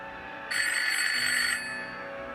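An old telephone bell rings in one bright, sustained burst of about a second and then stops, loud and close, with a faint room hum before and after.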